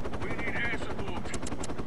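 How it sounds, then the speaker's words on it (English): A chopper gunner helicopter in the mobile game Call of Duty Heroes, rapid continuous machine-gun fire pounding over rotor thump, loud and dense, with a voice speaking over it. "and the price is gonna use the chopper gunner"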